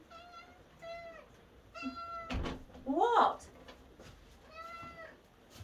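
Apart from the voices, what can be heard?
cat meowing after being let in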